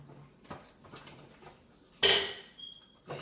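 Mr. Coffee coffee-maker parts being washed in a sink: a few soft clinks and taps, then one loud sharp clatter of dishware and a brief ringing note, followed by another knock, with no talking.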